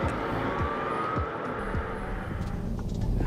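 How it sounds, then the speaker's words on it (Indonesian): A 2017 BMW i8 accelerates on its electric motor alone with the petrol engine off, a faint rising whine over heavy road and wind rumble from inside the car. "Hanya dengan desingan suara motor listrik tanpa mesin bensin menyala, mobil ini mampu berakselerasi 0 sampai 100 km per jam"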